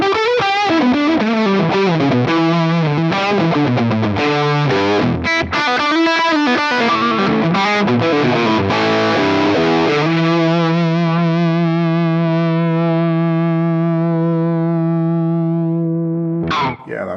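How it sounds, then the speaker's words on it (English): Electric guitar through a Lovepedal Mosferatu distortion pedal with gain cranked plays a quick run of notes, then a single chord rings out with long, fuzzy sustain before a brief final strum. "Just kind of sounds like a little tube amp all the way up"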